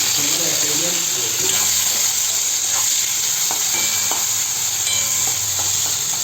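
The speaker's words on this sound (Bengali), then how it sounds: "একটু পেঁয়াজ দিয়ে দেবো, বেরেস্তা ভেজে নেব" Onions fry into crisp golden beresta in hot oil for a potato biryani, giving a loud, continuous hiss with faint stirring clicks underneath.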